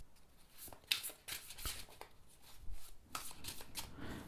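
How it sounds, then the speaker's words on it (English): A tarot card deck is shuffled overhand, giving soft, quick rhythmic slaps and riffling of cards throughout, close and fairly quiet with no talk. "And overhand it shuffles beautifully as well."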